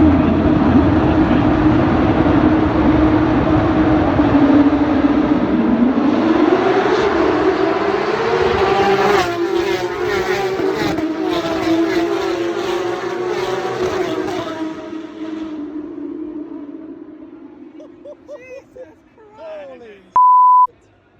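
Porsche Supercup race cars roar past the pit wall at the start of a race at Silverstone during the 2023 British Grand Prix weekend, a loud, dense engine wash that swells and fades over about fifteen seconds, followed by quieter tail-off and a short electronic beep.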